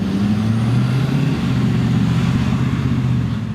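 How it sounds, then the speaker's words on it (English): A 2020 Ford F-450 XLT dually diesel pickup slows in town with its engine brake engaged, giving a steady, fairly quiet low drone heard from inside the cab without talk. "Let's see if we can use those engine brakes."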